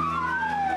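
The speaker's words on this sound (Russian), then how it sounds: "В день прощания по всей стране звучали пожарные сирены" Fire sirens sound steadily, wailing loud and close with a slowly falling pitch in a Russian day of mourning for the head of the emergencies ministry, with no talk over it.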